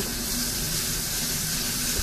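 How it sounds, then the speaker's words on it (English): Faucet water and a sink sprayer hiss steadily while a Persian kitten is rinsed in a sink, a continuous close splashing spray throughout. "I like to kind of rinse it out with the faucet water and spray the rest out with the sprayer."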